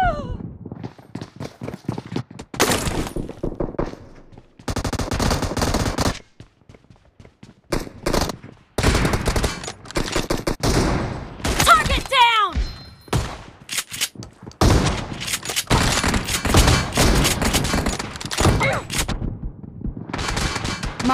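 Game gunfire from Battleground Mobile (BGMI) rattles in repeated bursts and volleys, broken by short gaps and mixed with other game effects, loud and busy throughout.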